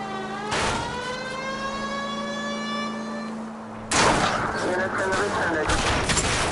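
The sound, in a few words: gunshots at car tires in L.A. Noire video game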